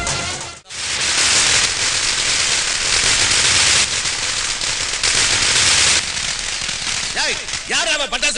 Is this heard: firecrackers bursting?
yes